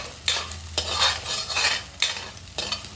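Eggs being stirred in a hot pan for scrambled eggs, a utensil scraping and tapping against the metal in uneven strokes over a soft sizzle, close and fairly loud.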